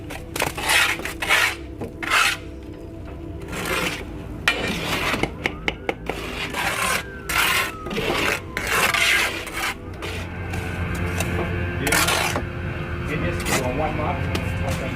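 A trowel scrapes mortar along brick joints while bricks are laid, in repeated rasping strokes that come in short bursts at close range, with voices in the background.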